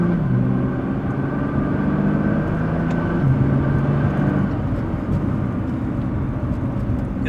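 A Nissan R35 GT-R idles while it warms up, a steady, loud, low engine rumble that holds constant throughout with no talking.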